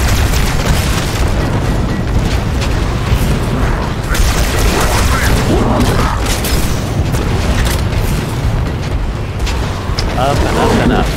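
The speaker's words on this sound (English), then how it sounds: "Let's get these exploding things" Repeated booming explosions of exploding objects in the Halo shooter game, loud and dense with rumbling low-end impacts and debris running continuously throughout, with game sounds layered on top.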